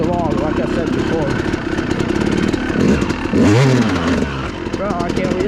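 Enduro dirt bike revving and spinning its rear tire on icy ground, engine pitch rising and falling in bursts close by, with someone talking over it.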